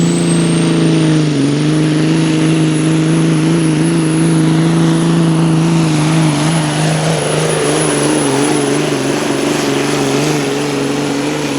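The pulling truck Inconvenience, powered by a rare 998 cubic inch Mack V8 with 4-cylinder heads, roars steadily and loudly through a full pull, its deep engine drone wavering in pitch with a dip and a rising strain near the end.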